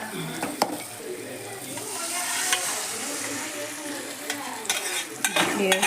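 Gobi manchurian is stirred with tomato sauce in a sizzling pan, a spoon scraping and clanking against the metal over a steady frying hiss, close and fairly loud throughout.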